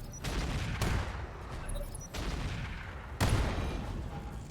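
Heavy turret gunfire pounding a Nighthawk mech in the RogueTech video game, a continuous loud barrage broken by several sharper impacts.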